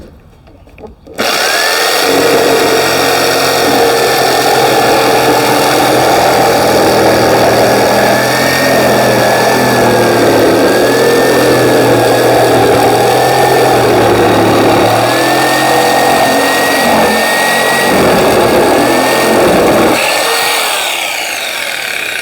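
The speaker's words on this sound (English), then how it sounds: "I'm just going to go through this scrap piece of wood with the guard on" A budget £25 jigsaw with its guard on saws through a scrap piece of wood at its fastest setting, a loud buzzing drone lasting about twenty seconds without pause before the motor cuts off.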